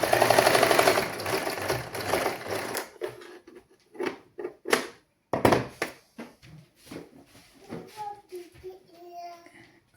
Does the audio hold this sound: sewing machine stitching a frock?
yes